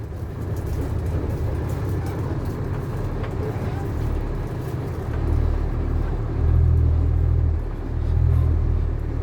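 A dump truck's engine while driving: a steady heavy low rumble throughout, swelling louder and deeper in the later part as the throttle is pressed, with a voice faintly beneath it.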